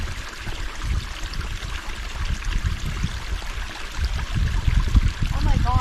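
Water trickles and gurgles from a pipe beside a cold stream, a steady close splashing flow with a brief voice near the end.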